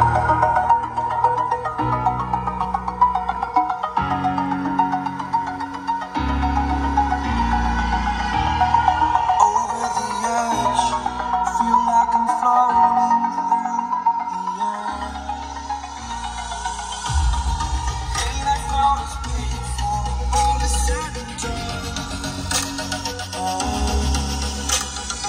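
A Maruti Fronx car audio setup with Audison APK 165P speakers and a Massive Audio 8-inch subwoofer plays music steadily for about 25 seconds, with deep, punchy bass under the melody and no talking.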